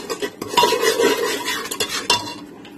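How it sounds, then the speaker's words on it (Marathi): Crab curry masala with ginger-garlic paste mixed with a spoon in a pot, uneven scraping and clinking strokes against the metal with a soft sizzle underneath, close and alone. "आता हे चांगलं मिक्स करून घेऊया"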